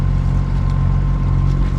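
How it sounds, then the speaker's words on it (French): A sailboat motoring off the Balearic Islands into a light headwind, with a steady, close, low engine drone under a faint rush of wind, unbroken throughout. "Vous entendez toujours le moteur, le vent dans le nez,"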